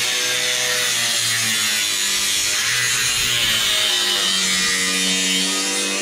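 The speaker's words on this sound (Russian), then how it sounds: "Болгаркой по металлу прям" An angle grinder cutting metal roofing sheet on a building site: a loud, continuous high-pitched whine and grinding screech with shifting motor pitch, no talk.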